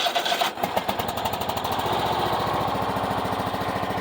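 A Craftsman riding lawn mower engine cranks briefly, then catches and runs with a fast, even putter. It stays loud and close, with no talk over it.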